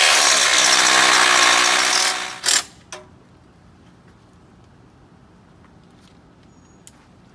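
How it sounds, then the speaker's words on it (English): A power tool whirs loudly for about two seconds, then cuts off with a couple of clunks, leaving near silence and one faint click. "drill a hole."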